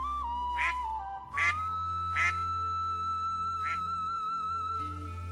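A cartoon duck quacks several times in short, evenly spaced bursts over a steady sustained musical tone, fairly close and clear.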